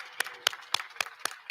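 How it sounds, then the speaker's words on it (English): Six sharp hand claps in a steady, even rhythm, close by and fairly quiet, at a health sciences graduation ceremony. "Let's give them a round of applause."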